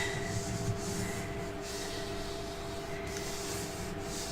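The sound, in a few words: burnishing a paper album box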